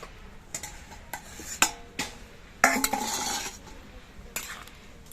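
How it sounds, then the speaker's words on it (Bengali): A lid comes off a cooking pot of vegetarian ol kochu (elephant foot yam and taro), giving several sharp metallic clinks and clatters spread over a few seconds, close by, with no voices. "এবার ঢাকনাটা খুলে দিচ্ছি।"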